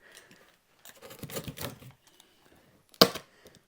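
Blade slicing open the plastic packaging on a coil of shop air line tubing, giving a few short scraping cuts and then one sharp snap near the end, close and fairly quiet, with no talking.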